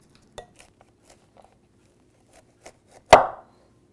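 A knife cuts thick cauliflower steaks on a cutting board, with scattered light ticks and crunches, then one loud sharp chop near the end that rings briefly.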